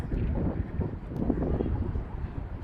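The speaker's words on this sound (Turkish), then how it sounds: "Yani çok rüzgar var." Strong wind buffets the microphone in low, uneven gusts near Marseille Cathedral, a constant blustery rumble throughout.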